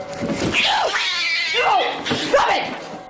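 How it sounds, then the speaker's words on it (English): An angry house cat yowls and caterwauls loudly as it lunges to attack, with harsh, drawn-out cries that rise and fall across a few seconds at close range. "The angry, hissing animal descends upon her within seconds."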